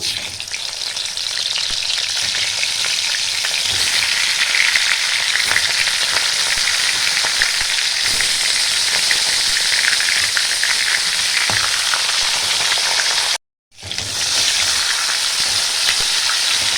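Loud, dense sizzling of hilsa fish heads rubbed with salt and turmeric frying in hot oil, steady throughout with a brief cut to silence near the end.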